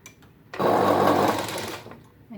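A sewing machine stitches along the edge of a blouse in one short, steady burst of whirring that runs for about a second and a half and then winds down, with quiet room tone before and after.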